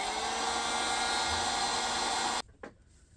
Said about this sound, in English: I'm going to take my heat gun, and I'm just going to heat this up a little bit